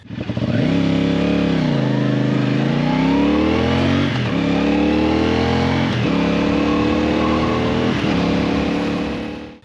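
A CFMoto CL-C 450 Bobber motorcycle engine revs loud and close, pitch climbing and dropping through gear changes as it pulls away and keeps accelerating.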